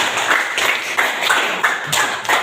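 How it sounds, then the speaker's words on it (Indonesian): Classmates applaud together, a dense, loud burst of many hands clapping at once with slight rhythmic swells, close and sustained without talk. "tepuk tangan dulu untuk teman-teman"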